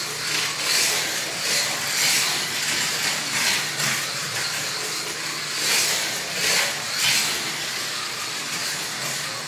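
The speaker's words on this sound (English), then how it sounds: "This car is beautiful to see go around the track." A Pontiac driving laps around a race track, heard as a broad hissing whoosh that swells and fades in repeated passes at moderate distance, with no speech.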